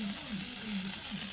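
Oil hitting a hot kalaha (wok) hisses in a soft, steady sizzle, close but quiet, with a faint low scrape beneath and no speech.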